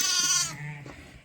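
A Texel sheep gives a single loud, close bleat, wavering and nasal, that fades into a lower tail within about a second.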